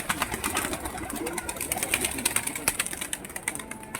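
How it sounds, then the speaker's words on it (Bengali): Many pigeons coo together inside a pigeon loft, a dense, steady murmur of overlapping calls close by, with scattered soft clicks and flutters throughout. "এই পাশটাতে অনেক পায়রা রয়েছে"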